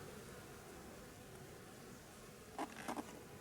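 A faint, even buzz of honeybees at a hive, including a queen, hums throughout, broken near the end by a couple of brief scraping clicks.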